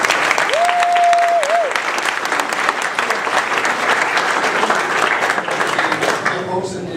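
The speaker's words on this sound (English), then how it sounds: "let's have a round of applause for Warren Robinson, our moderator." An audience at a political debate between congressional candidates bursts into sustained clapping, dense and loud for several seconds before thinning out, with a brief whistle near the start.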